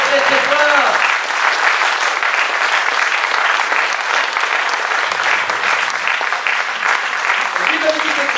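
A large festival audience applauds a team of improv performers, dense steady clapping filling the space from start to finish, with a voice briefly calling out over it near the beginning and end.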